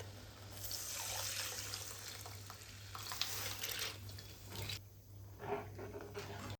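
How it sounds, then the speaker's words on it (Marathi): Water and whole brown lentils pour and splash into a pot for several seconds, then the flow stops and a few soft trickles follow. "आता याच्यामध्ये मी अख्खा मसुरा घालते पाण्यासहित"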